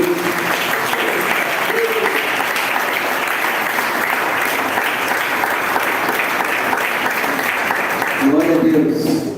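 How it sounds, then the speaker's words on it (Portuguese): A church congregation claps in praise during a worship service, sustained loud clapping throughout, with brief voices at the start and a louder voice rising near the end. "Você pode dar uma salva de palmas ao Senhor de Deus?"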